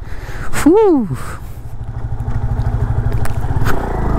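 A 2021 Yamaha FZ25 Monster Energy Edition motorcycle rides with a steady engine drone throughout, loud and close, with a brief rising-falling tonal sweep early on and someone talking over it.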